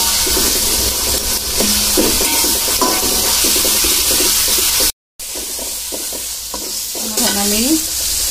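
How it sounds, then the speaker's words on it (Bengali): Ginger and garlic fry and sizzle in a pan for fish curry, a steady close hiss broken by scraping stirs, with a brief dropout midway and no talk. "আদা রসুন গুলো আমি ভেজে নিব ভালো মতো"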